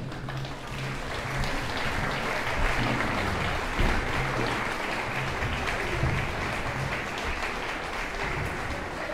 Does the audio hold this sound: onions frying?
no